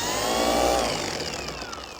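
A polisher set to its lowest speed wet sands car paint, giving a close, continuous whirring motor hum that swells slightly then settles, with no voices.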